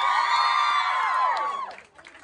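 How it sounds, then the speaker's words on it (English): Concert audience at a live show in Liverpool, loud cheering and whooping with applause carrying for about a second and a half before fading away. "Give a big round of applause to our co-headliners,"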